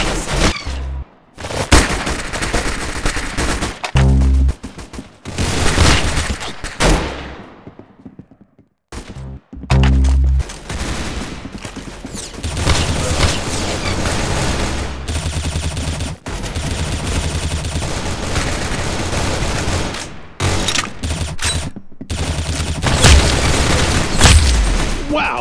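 Gunfire and booming explosions in the Roblox shooter game Arsenal, with rapid bursts, heavy low booms and brief silences between runs of shots, loud and close throughout.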